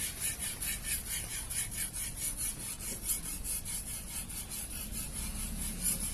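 Steady rhythmic rasping strokes of a butcher knife sharpened on an Imanishi Arashiyama 6K Japanese whetstone, close and continuous back-and-forth scraping with no talk.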